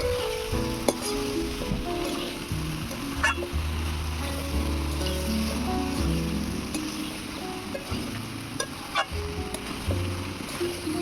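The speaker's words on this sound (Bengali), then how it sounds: "আলু আর লাউটাকে ভালো করে কষিয়ে নেব।" Bottle gourd and potato stir-fried in spiced masala for lau chingri, a steady close sizzle with sharp intermittent clicks and scrapes of the spatula against the pan, with no talking.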